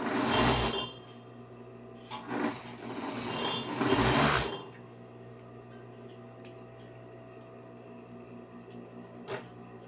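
A sewing machine stitching the finish on a jacket pocket runs in three close bursts, the longest at the end, then stops, leaving quiet room tone with a few small clicks.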